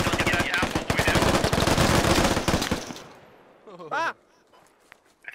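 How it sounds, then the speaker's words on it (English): Rapid automatic gunfire in the military shooter Squad, a loud, fast stream of closely spaced shots for about three seconds that then stops abruptly, followed by quieter game noise and a brief voice. "this gun shoots fast"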